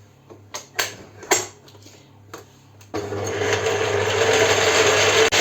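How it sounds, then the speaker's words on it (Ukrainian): An electric mixer beats egg whites with a pinch of salt, starting with a few clicks and knocks, then whirring steadily and close for several seconds, growing slightly louder. "До цих білків додаю щіпку солі і будемо збивати до рехлого снігу"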